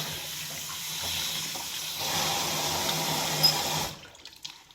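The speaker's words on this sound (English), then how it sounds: "Get that Velcro rinsed thoroughly. Soap out of the back." Steady rush of running tap water over a tactical dog harness with Velcro as it is rinsed free of soap, fairly loud and continuous before cutting off abruptly near the end.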